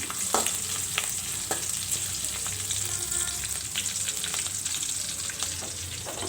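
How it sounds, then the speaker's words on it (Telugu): Finely chopped green chillies fry in hot oil with curry leaves, a steady close hiss broken by scattered pops and crackles, no voices. "మనం ఇలా సన్నగా తరుక్కున్న పచ్చిమిర్చి వేసి వేయించుకోవాలి"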